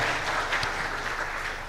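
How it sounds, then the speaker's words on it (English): Brief burst of audience applause at a waste-management conference in East Africa, a dense, steady clatter of many hands, fairly loud and continuous for under two seconds. "That young man deserves a round of applause."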